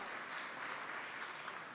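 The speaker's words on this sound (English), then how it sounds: "Good applause for the little video" A large keynote crowd applauds with a continuous, even wash of clapping, heard somewhat distant and soft.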